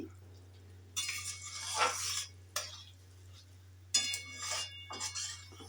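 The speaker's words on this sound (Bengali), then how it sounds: "ভালো করে মিশিয়ে নিচ্ছি" Paneer curry is stirred and mixed in a pan, with bursts of spoon scraping against metal in several uneven strokes over a faint sizzle and a low steady hum.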